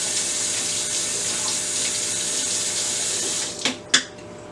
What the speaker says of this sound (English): So let me rinse off my knife.